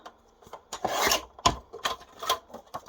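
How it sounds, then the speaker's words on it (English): Paper guillotine slicing card for a five-inch nutcracker gift box: a run of short, dry rasping strokes and sharp cuts, close up and fairly loud, with no talking. "get the guillotine. Just trim that back in."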